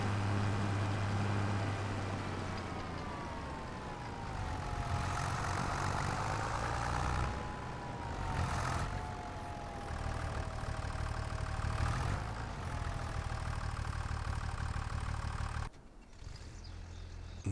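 Farm tractor engine idling at a low steady rumble, with a rising and falling whine as the revs shift, close and continuous, dropping off near the end, with no talk.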